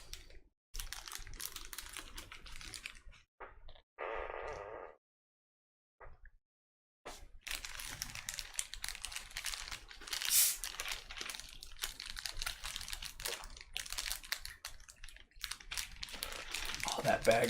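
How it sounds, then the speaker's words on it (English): A plastic bag of parts for a Prusa i3 Mk2s 3D printer's Y-axis assembly crinkles close by in sustained rustling bursts, with a few short pauses between them. People talk quietly in the background. "Oh, that bag crinkling."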